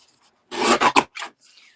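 Paper being trimmed for a handmade card with a paper trimmer, a short rasping slide in a few quick strokes, close and alone.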